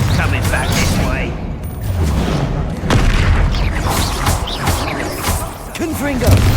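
Bombarda spell explosions in the video game Hogwarts Legacy, booming blasts repeating through a chaotic fight amid crackling impacts and shouted spell names.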